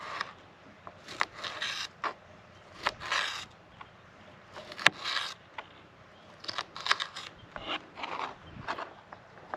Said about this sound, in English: And then we're just going to do a rough cut. Just basically dice the pepper.